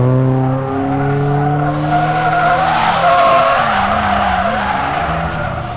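A Chevrolet Camaro drifts with a long, loud tire skid. The squeal bends up and down in pitch over the engine's roar and holds steady for several seconds before easing off slightly.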